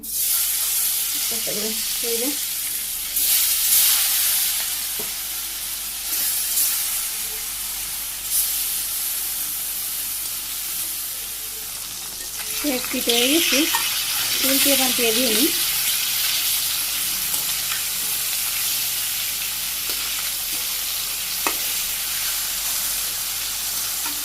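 Fish pieces sizzle in hot oil in a pan in a Bangladeshi village kitchen, a loud, constant hissing fry with bursts of spatter, while a voice briefly sounds twice.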